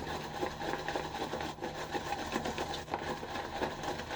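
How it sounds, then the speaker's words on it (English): A shaving brush scrubs soap around a 3D-printed bowl, giving a steady, dense bristly swishing that runs without pause at moderate level. "Scrubbing pretty good in the bowl here."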